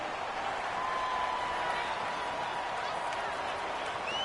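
Football video game crowd roaring as a big third down approaches, a steady dense wash of cheering with faint whistles, under commentary.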